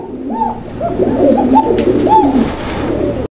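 Roman pigeons cooing in repeated soft, throaty rolling calls, fairly close and loud, with a sharp click at the very end.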